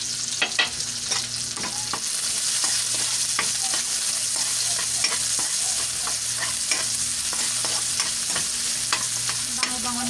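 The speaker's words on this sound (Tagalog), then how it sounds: "Bango-bango na po ng garlic at saka yung red onion." Red onion and garlic sautéing in a pan, a steady loud sizzle with repeated clinks and scrapes of a spatula stirring throughout, no voices.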